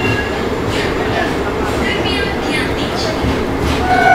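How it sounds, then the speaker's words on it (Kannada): A Tumkur–Bengaluru MEMU train pulls into Yesvantpur railway station, its loud continuous rumble and rail noise heard up close, with faint squeals and clatter rising toward the end. "ಇದು ನಮ್ಮ ಮೆಮೊ ಟ್ರೈನ್ ಸದ್ಯಕ್ಕೆ ತಲುಪಿದೆ ಯಶವಂತಪುರ ರೈಲ್ವೆ ಸ್ಟೇಷನ್ಗೆ"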